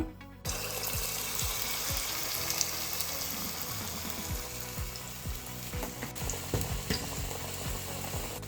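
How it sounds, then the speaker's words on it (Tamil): Cauliflower pieces coated in batter deep fry in a pan of hot oil, a loud, dense and steady sizzle close by with bubbling crackle throughout, with no voice. "காலிஃப்ளவர் போட்டோம் கொஞ்ச நேரம் வேகட்டும்"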